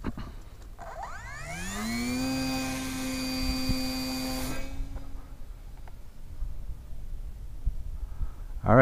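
A brushless sub-250 g micro RC sport plane, a DIY glue-and-fly build, whines into flight at about 60% throttle; its motor pitch rises quickly, holds steady, then fades away as it flies off.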